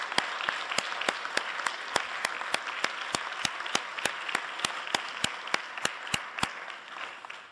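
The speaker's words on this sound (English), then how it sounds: "If I could ask them to stand and receive our applause of appreciation" A lecture-hall audience applauds for several seconds, a steady, moderately distant wash of many hands with a few sharper individual claps standing out and fading slightly at the end.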